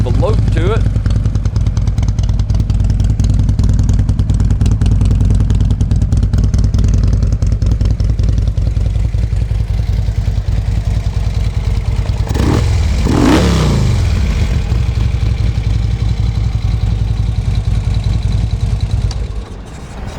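A Harley Davidson Road Glide Custom FLTRX, recently fitted with a new battery, runs close and loud with a deep, steady, slightly loping idle. Midway there is a brief rev rise and fall before it settles back and the engine cuts off at the end.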